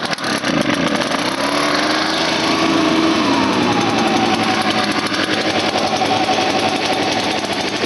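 Echo PB580T backpack leaf blower engine running at full choke, a loud, steady buzzing two-stroke drone with a slight rise in pitch early on, close and continuous with no speech.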